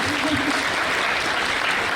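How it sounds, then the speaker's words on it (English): Audience applause at a literature festival session in Vadodara, steady clapping from a seated crowd for a couple of seconds, moderately loud and even throughout. "I think that deserves a round of applause, guys."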